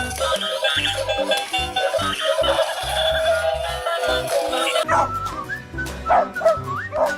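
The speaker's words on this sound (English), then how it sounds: "dog" Toy animal figures produce recorded dog barks and whimpers, a run of short yips and woofs over a steady electronic backing sound, close and fairly loud.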